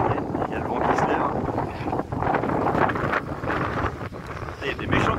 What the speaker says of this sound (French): Il y a des méchantes rafales de vent là.